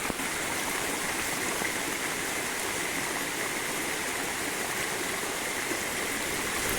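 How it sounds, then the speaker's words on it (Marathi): Continuous rushing of rainwater running off a Konkan plateau like a small stream, flowing steadily nearby, with no pauses or voices. "आमच्या वाटेक असा पाणी इलेला आहे बघा सड्यावरनं"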